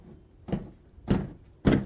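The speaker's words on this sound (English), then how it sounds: "I open this door and it drops like a whole foot." A car door on a wrecked 2023 BMW M240i, hanging on a loose upper hinge, gives three heavy close thuds evenly spaced over about two seconds in an otherwise quiet space.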